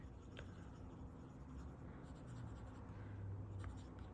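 A fountain pen with a medium nib, inked with Diamine Salted Caramel, writing on paper, giving a faint, close, soft scratchy glide with a couple of brief tapping strokes.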